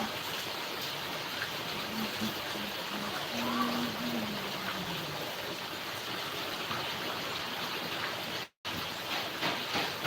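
Heavy rain falls in a steady, dense wash of noise. A faint low hum drifts underneath, and there is a very brief dropout near the end.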